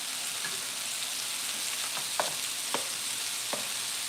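Broth being stirred in a pot on the stove: a constant bubbling hiss with a few soft spoon knocks and scrapes near the end, close and fairly quiet, no voices.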